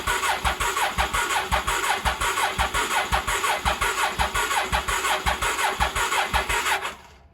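A 1983 Honda Shadow VT750C motorcycle engine cranks on the starter with a fast, steady rhythmic churn for about seven seconds without firing, then stops abruptly, loud and close with no voices.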